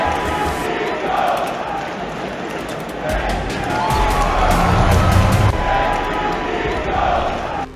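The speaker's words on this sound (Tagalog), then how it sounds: "ang grabing energy ng crowd na sumisigaw ng "Thank you," A basketball arena crowd chants "Thank you, Nico" in a loud, continuous roar of massed voices that swells in the middle, with a voice speaking over it.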